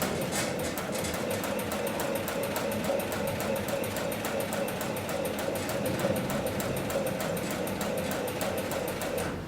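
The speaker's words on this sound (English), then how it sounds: "I'm going to continue sewing" An industrial sewing machine stitches a heavy cargo sling, running in a fast, even, unbroken mechanical rhythm throughout, loud and close with no talking.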